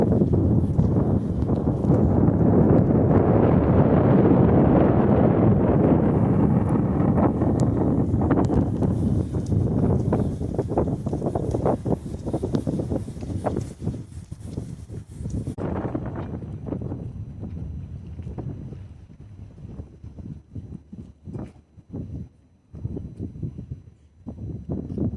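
Strong wind buffets the microphone on the breakwater of St Malo port, a heavy roaring rush that dominates the first half and then drops to gusty bursts with faint crackles and knocks.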